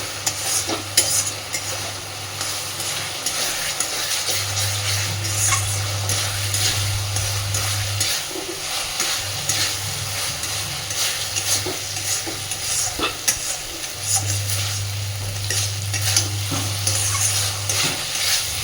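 Lentils stirred with spices and a splash of water in a pan for khichuri, with a loud, continuous sizzle and steady scraping under a low, on-and-off hum.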